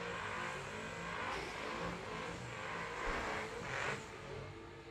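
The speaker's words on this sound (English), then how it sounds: "you can definitely tell the little twin turbocharged Camaro makes some serious power." Twin-turbocharged Camaro no-prep drag racing at Muncie Dragway, a continuous loud engine roar with rising revs and crowd-level noise over nearly five seconds, fairly distant and broadband, with no talking.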